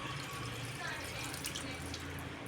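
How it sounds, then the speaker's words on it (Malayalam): Tamarind water pours into mango rasam, a continuous, even splashing stream of liquid that holds steady for the whole stretch. "അതിപ്പോൾ പുളി വെള്ളം കൂടെ ഒഴിച്ചു കൊടുക്കാം"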